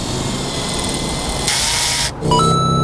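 A steady broadband hiss of air being pumped into a freshly plugged car tire, loud and close, with a brief pause before a tonal whine resumes.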